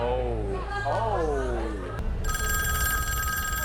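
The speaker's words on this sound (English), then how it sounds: "Oh, the phone's ringing. Phone's ringing." A telephone rings loudly in a repeated electronic trill after some chatter and voices, the ring continuing steadily to the end.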